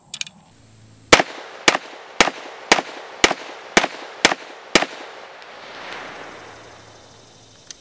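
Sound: Stribog SP9A3 9mm pistol firing

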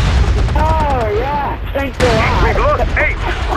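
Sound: gunfire in video game MAG

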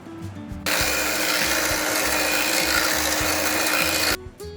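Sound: whisking Amul fresh cream for chikoo ice cream

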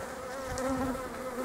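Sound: honey bees buzzing at beehive

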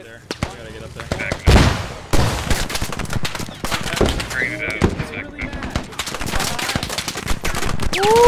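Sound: gunfire in the video game Squad

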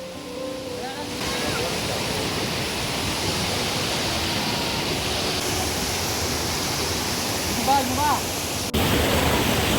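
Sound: waterfall in Idukki

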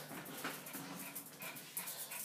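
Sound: dog whimpering

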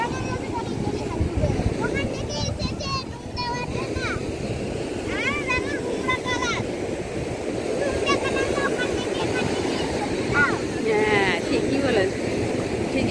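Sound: strong sea waves crashing on a Kerala beach

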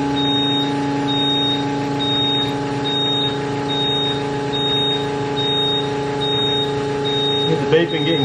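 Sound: beeping from a Kubota KX057-4 excavator while refuelling

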